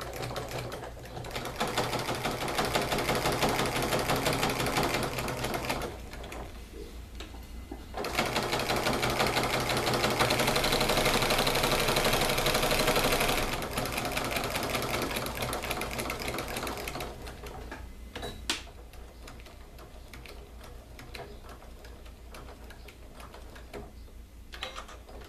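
A sewing machine runs in long rapid stitching bursts, pausing briefly between runs, close and steady with no talking.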